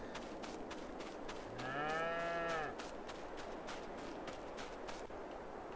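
Cows moo in Farming Simulator 22, one drawn-out low call standing out clearly over steady farmyard ambience with faint background clatter.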